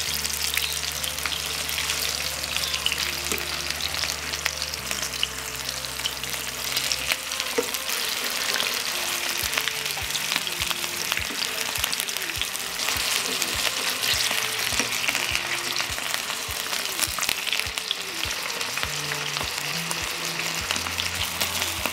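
Pljeskavica patties fry in a pan with a loud, steady sizzle and crackle that runs unbroken for the whole stretch. Occasional stirring or scraping sounds come through over the frying.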